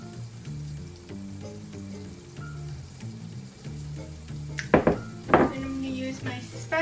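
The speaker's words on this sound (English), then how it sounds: "I'm just gonna pour this into the pan." Food is poured into a pan while making a bento box, giving a few loud splashy sizzling bursts near the end after quieter kitchen clatter, with a soft hum of background music underneath.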